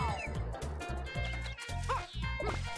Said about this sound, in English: I might have to take this dumb dog outside.